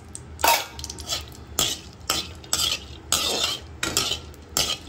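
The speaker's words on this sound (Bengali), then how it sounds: "ফোড়ন দিয়ে ভালোভাবে নাড়াচাড়া করে নিচ্ছি" Cardamom, cinnamon and cloves tempered in hot ghee are stirred in a pan, giving a series of repeated scraping, clinking strokes about every half second with faint sizzling underneath, close and fairly loud, no voices.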